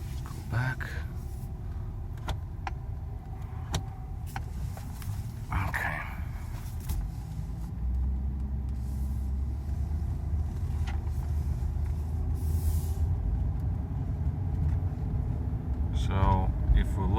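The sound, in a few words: Mercedes SL500 driving down the street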